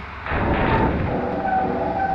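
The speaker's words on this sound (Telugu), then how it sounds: "మనమైతే క్రాష్ చేసి ఇస్తున్నాం గైస్ అందరినీ." A vehicle skids and crashes in the driving game Bus Simulator Indonesia: an engine surge and tyre screech rise sharply after a brief lull, then a sustained grinding roar continues to the end, with no voices.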